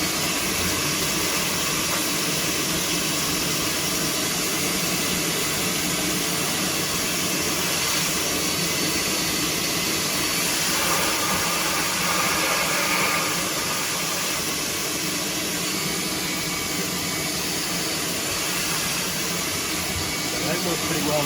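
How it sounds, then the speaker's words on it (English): A shop vacuum roars continuously at close range, a loud steady whooshing whine with little change, and a voice faintly underneath; used to clean out a Dyson DC40 Animal. "Flip my power on to my shop vac"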